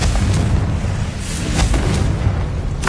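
Booming blast of the Confringo explosion spell in Hogwarts Legacy, a dense rumbling burst that fills the whole clip, loud and close, with a few sharper cracks breaking through.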